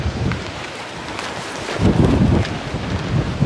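Strong wind buffets the microphone on the Makapu'u Point cliffs in Hawaii, a loud continuous roar with gusts swelling and easing, no voices over it.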